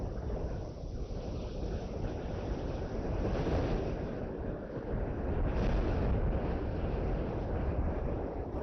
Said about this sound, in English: So I do apologize for the windy sound, but of course, that is part of the weather that's taking place in the area at the moment.